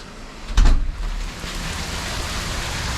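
Steady rain falls outside during home rewiring work, a constant even hiss of drops with one brief louder knock early on and no voices.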